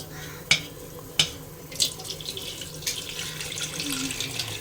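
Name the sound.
water running while washing and soaking tamarind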